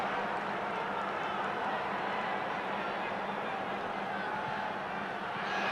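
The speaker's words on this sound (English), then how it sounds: "Crowd urging Singapore forward." A football stadium crowd roars steadily throughout a Philippines versus Singapore group-stage match, a dense, continuous wash of cheering that holds at an even level with no breaks.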